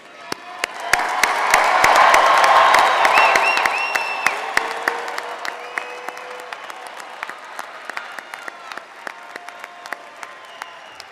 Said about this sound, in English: Families and friends, one more time, please applaud your graduates.